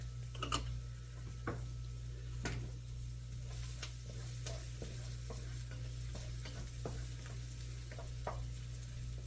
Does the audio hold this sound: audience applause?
no